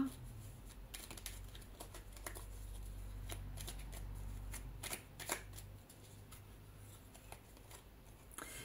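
Small angel oracle cards are shuffled and drawn by hand, a close, quiet run of riffling flutters and soft papery slaps in uneven bursts.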